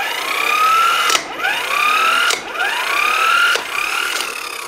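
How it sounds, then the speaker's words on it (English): Pneumatic-style impact wrench set to reverse, undoing a wheel nut on a box trailer: three loud, whirring bursts with rattling hammer impacts and rising pitch, each cut by a brief pause, close to the microphone. "So if we just set it to undo,"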